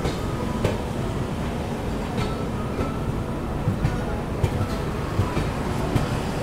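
The Mewar Express passenger train between Udaipur and Delhi rumbles steadily along the rails, heard from on board, with a continuous loud roar and scattered clicks from the wheels over the track.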